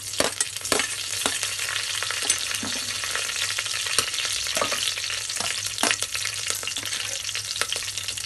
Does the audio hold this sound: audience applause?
no